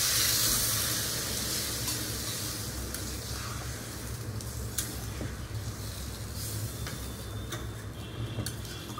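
Steady sizzling and hissing from a pan of no-onion, no-garlic biryani as a splash of water goes in, a continuous close crackle that fades slightly after the first moment.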